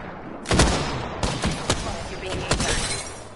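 Bursts of gunfire in an Apex Legends match ring out in several sharp volleys over continuous game ambience, with loud shots spaced irregularly across the scene.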